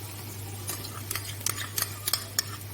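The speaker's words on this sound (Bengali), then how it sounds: "যাতে দইটা কেটে না যায়, যার জন্য আমি হালকাভাবে নাড়াচাড়া করব" Fish curry with whisked yogurt being gently stirred in a pot, for shahi malai bhetki, making soft intermittent scraping and clinking strokes over a steady low hum, fairly quiet, with no talking.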